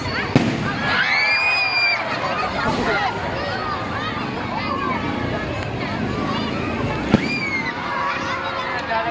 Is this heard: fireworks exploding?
yes